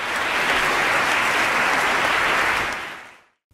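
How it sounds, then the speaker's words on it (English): Thunderous applause fills the Florida Supreme Court at a pro bono service awards presentation, a loud, dense roar of clapping that holds steady for about three seconds before fading quickly to silence. "That thunderous applause in the Florida Supreme Court was for Stephen Todd."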